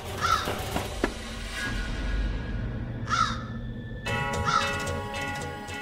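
A crow caws three times, spaced apart, over a low rumbling background, harsh and fairly close.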